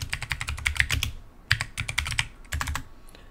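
Rapid bursts of clicky keystrokes on a computer keyboard come in three quick runs separated by short pauses, close and crisp, with no talking.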